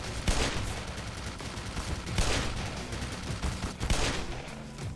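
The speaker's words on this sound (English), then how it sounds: "I hear a turret." An automated turret fires in the video game Black Mesa in rapid, overlapping bursts of gunfire with a few louder cracks, steady and fairly close throughout, and no talk.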